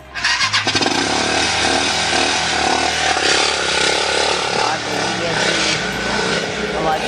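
A small vehicle engine runs loud and close, a steady rough buzzing drone that holds for several seconds with slight swells, with voices talking underneath.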